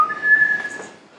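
A person whistles a musical interval, a clear, close, pure tone held for about a second with a slight shift in pitch partway through, alone with no talking.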